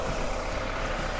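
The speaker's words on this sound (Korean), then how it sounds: "진짜 엔진 소리 한번 들려드릴게요" A car engine idles with a steady, even rumble, moderately loud and close, with no other sounds over it.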